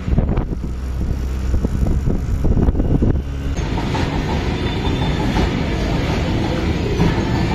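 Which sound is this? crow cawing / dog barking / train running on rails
train running on rails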